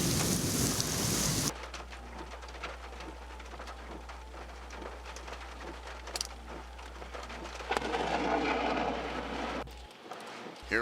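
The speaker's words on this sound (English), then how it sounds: "Here was just some of the heavy rain and very strong winds I was in, and even some small hail" Heavy rain pours steadily during a storm, with strong gusts of wind roaring, some small hail, and a low constant rumble; the downpour swells louder toward the end.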